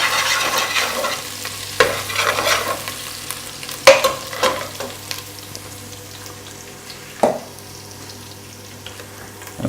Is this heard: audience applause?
no